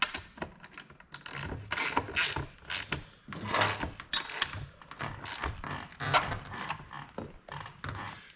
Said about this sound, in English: And we'll tighten the axle down first.